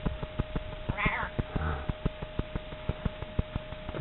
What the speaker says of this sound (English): Here comes my pussy cat.